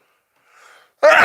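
A single sneeze bursts out loud and close after near silence and a faint breathy intake, cut off abruptly at the end.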